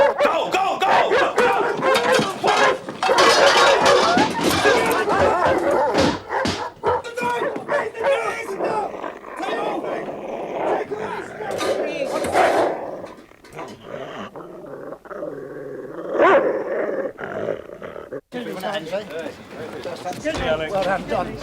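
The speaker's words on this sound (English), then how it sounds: "Ready? Dog." A police dog barks and growls fiercely at close range during a chaotic arrest scene in a 1988 British police drama, its snarls and barks loud and continuous amid shouting voices and scuffling.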